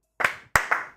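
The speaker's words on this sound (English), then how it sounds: "Two claps for the NBA crew." Two sharp hand claps ring out close up, each followed by a short echoing tail, spaced about a third of a second apart in an otherwise quiet room.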